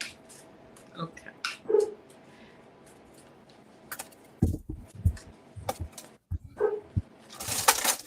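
A pet dog whimpering to be let back inside the house, a few short soft whines and faint rustles spread across a quiet indoor background.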